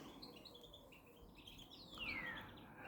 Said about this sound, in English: I mean, a green finch now.